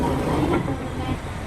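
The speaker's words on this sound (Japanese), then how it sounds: "さあ、列車は南千歳駅に到着します。" A train pulls into Minami-Chitose station in Hokkaido, giving a steady, fairly loud rolling rumble throughout with no talking.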